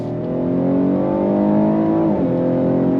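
Cadillac XT6 Sport engine under acceleration, a steady close droning tone with layered harmonics climbing smoothly, then a quick dip and resettle as the 9-speed automatic shifts, carrying a synthetic pumped-in quality inside the cabin.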